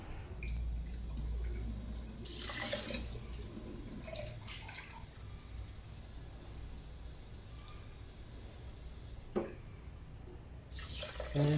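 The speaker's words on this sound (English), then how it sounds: "I'm going to add 2 cups of water," Two cups of water poured into a pot of soaked basmati rice set to cook, heard as a few soft splashes and trickles over a low steady hum.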